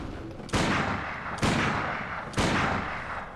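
Three heavy gunshots from firearms in Bloodborne, each a sharp loud blast with a long decaying tail, spaced about a second apart with no talk over them.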